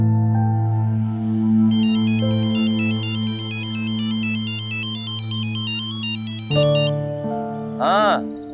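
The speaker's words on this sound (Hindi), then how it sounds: "फोन कर लेती हूँ" A melodic phone ringtone plays near and clear for several seconds, then stops; a voice follows briefly at the end.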